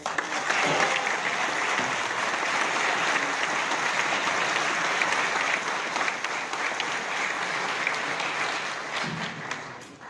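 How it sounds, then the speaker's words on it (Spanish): Steady, dense applause from a gathering of unionized workers at an official event, loud and continuous for about ten seconds with a few thumps, tapering slightly at the close. "Un aplauso para ustedes."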